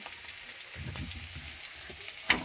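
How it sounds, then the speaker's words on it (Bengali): Potatoes and flat beans fry in a pan with a soft, quiet, steady sizzle and a few faint stirring clicks, heard alone at close range. "আর এই দেখো, এখানে আলু ভাজা হচ্ছে, আলু সিম ভাজা"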